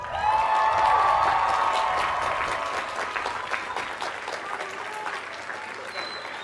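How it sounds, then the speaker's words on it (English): Commencement graduates applaud their guests in a broad, sustained round of clapping that swells early and then slowly fades, filling a large ceremony space with crowd noise. "Graduates, please look back at all of the guests and give them a well-deserved round of applause."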